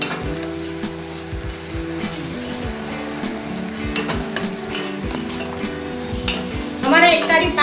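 A mohanthal mixture bubbles and sizzles steadily in a pan on a gas stove, with a spoon scraping and clinking against the metal now and then and a sharper burst of sizzling near the end.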